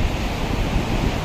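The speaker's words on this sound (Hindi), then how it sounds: "यहाँ बहुत ठंडी ठंडी हवा चल रही है" Cold wind blows near the Alaknanda river at Badrinath, a dense, steady rush of broadband noise buffeting close to the microphone, loud and continuous with no voices.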